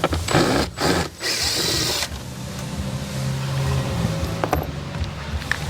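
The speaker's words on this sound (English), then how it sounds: "or if you have a nut driver like this" A powered nut driver spins nuts loose during a Ford sound system install, giving short whirring bursts followed by a sustained motor whine with faint clicks.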